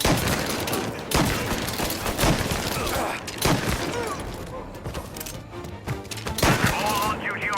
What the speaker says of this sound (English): All on-duty officers, gunshots being reported.